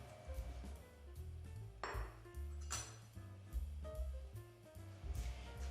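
Oven-roasted grilled vegetables being spooned into a bowl: a quiet run of light clinks and taps of a utensil against the dish, several soft knocks spread unevenly through the moment.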